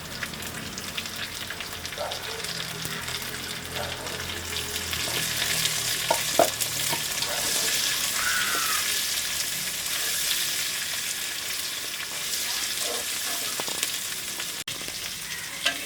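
Onions sizzling steadily in hot oil with ginger and garlic in a pan, a continuous bright frying hiss with occasional spoon scrapes and light stirring knocks, close and alone.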